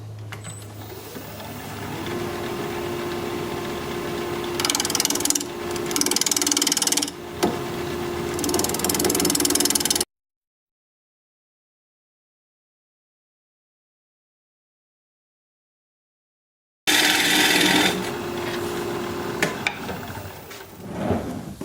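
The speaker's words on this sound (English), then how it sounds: "We're going to be turning at 1200 RPM, 5/8 inch bowl gouge, mask and face shield on." A wood lathe spins at 1200 RPM while a 5/8 inch bowl gouge cuts a bowl, making a loud, close, continuous whirring hum with scraping bursts that cuts off into silence mid-clip and then comes back.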